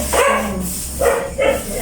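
A dog barks in three loud, close bursts over a couple of seconds at a home where food is being cooked, with a steady background hum between the barks.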